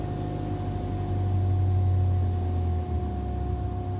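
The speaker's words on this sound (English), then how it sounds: "There, it stays about 500-600-700 RPM above, and then it goes down, back down to proper idle." A car engine idles with revs hanging high, a steady hum that lingers and then drops back toward a lower idle near the end, heard alone without talk.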